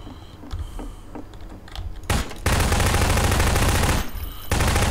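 Gunfire in a Garry's Mod Prop Hunt match: faint scattered shots at first, then loud bursts of rapid automatic fire that break off briefly and resume, close and dominant.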